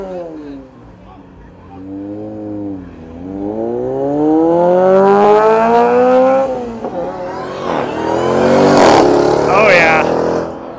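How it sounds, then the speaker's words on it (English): Car engines rumble and rev as several vehicles, including a V6 Mustang and a Tesla, pull away one after another leaving a Cars & Coffee meet, getting louder toward the end, with voices talking over the traffic. "Now we're gonna go watch the cars leave"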